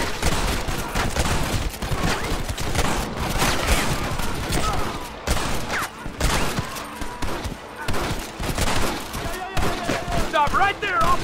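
Sustained heavy gunfire in the video game Red Dead Redemption 2 at Beecher's Hope, a dense, loud fusillade of overlapping rifle and pistol shots throughout, with shouting voices mixed in.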